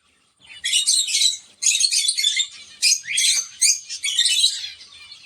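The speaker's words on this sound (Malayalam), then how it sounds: "ഇപ്പോൾ നമ്മൾ കണ്ടുപിടിക്കുന്നത് ആൽബിനോ പേൾ കോക്ടെയിലിൻ്റെ ഒരു ജോഡിയാണ്." Pet albino pearl cockatiels call in shrill, high-pitched bursts, several squawks in quick succession, close by with short pauses between them.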